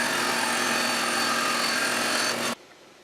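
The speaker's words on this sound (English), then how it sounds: "let's go and cut this yellow hardboard." A band saw rips yellowheart hardboard into staves for segmented woodturning, a loud, steady whirring cut that holds evenly for about two and a half seconds, then stops abruptly, leaving only faint room noise.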